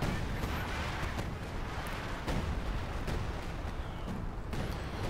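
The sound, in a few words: assault artillery barrage in Company of Heroes 2 video game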